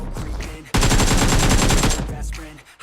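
An AK-47 in PUBG Mobile fires a loud, rapid automatic burst lasting just over a second, close and harsh, with quieter game sounds before and after.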